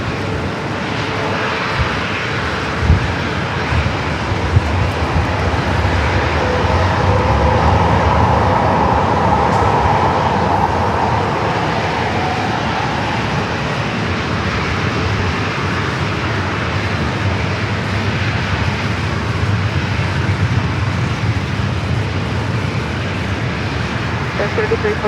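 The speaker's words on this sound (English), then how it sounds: "This is the A321 Delta committed from Minneapolis" A Delta Airbus A321 from Minneapolis at San Diego airport, a loud, sustained jet engine roar that swells and holds, with air traffic radio voices talking over it.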